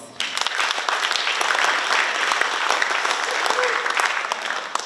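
A graduation ceremony audience breaks into a big round of applause, dense steady clapping starting abruptly and holding loud and continuous for several seconds, with faint crowd voices underneath.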